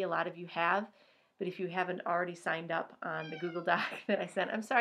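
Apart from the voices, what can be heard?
cat meowing to go outside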